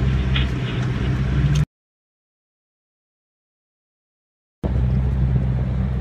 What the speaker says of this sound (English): that was the quickest ride in a Koenigsegg 1-1 I've ever had